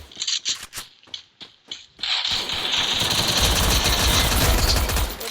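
Gunfire in the mobile shooter Free Fire: sharp separate shots in the first two seconds give way to a dense, loud, unbroken burst of automatic fire that lasts to the end, with no talking.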